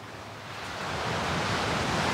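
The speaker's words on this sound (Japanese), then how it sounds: "これは海の音です。" Sea waves heard from inside a 110-year-old tea room with no windows, only a single paper shoji screen, opening onto a beach; a broad, continuous wash of surf that swells slightly louder as it goes, with no voices.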